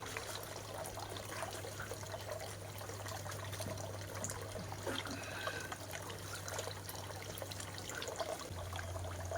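Cold water poured and trickling during a bath at a well outdoors, a steady close splashing flow lasting throughout with a low constant hum beneath it.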